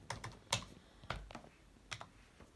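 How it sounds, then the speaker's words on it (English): An amount is typed on a computer keyboard in a few distinct, close keystrokes spread unevenly over a couple of seconds, with quiet pauses between taps and no voices. "So what we're going to do here is we're going to type in your amount."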